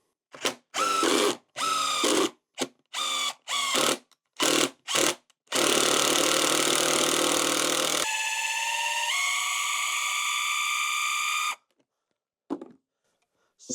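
A power tool spins a bolt stuck in a plastic part of a 2014 KX250F dirt bike, heating it by friction. It runs in a series of short whining bursts, then one long, steady high-pitched spin, then stops.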